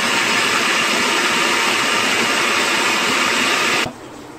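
An electric blender grinds fresh coriander and tomato into a thick chutney, a loud steady whir running for nearly four seconds before cutting off abruptly to a quiet hum.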